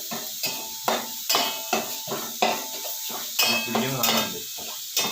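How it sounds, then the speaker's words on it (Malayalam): A spoon sautés tripe fry in a pan with roasted coconut, scraping and knocking against the metal in steady strokes about every half second, close and moderately loud with only faint sizzling beneath. "ഞാൻ നല്ലോണം ഒന്ന് വഴറ്റിയെടുക്കല്ലേ"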